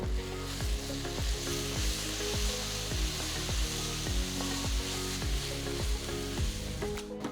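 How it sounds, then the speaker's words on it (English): Onions sautéing with ginger garlic paste for a chicken salna curry, a loud, close sizzle broken by regular scraping stirs of a spoon against the pan, rhythmic throughout with no speech. "Saute the onions till they are a nice golden brown color"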